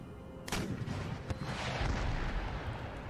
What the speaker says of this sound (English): See if my artillery will lob shells into the fort from here.